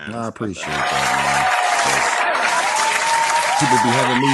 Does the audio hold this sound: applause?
yes